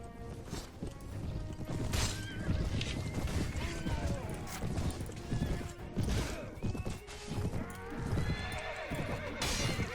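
Horses charging and neighing in a Mount & Blade Warband battle, with loud whinnies over a dense, continuous rumble of hooves and clashing combat noise, and a voice talking underneath.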